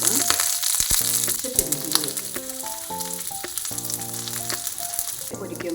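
Ribbonfish pieces fry in a pan of hot oil with a couple of curry leaves, producing a steady, moderately loud hiss and crackle over a background of music.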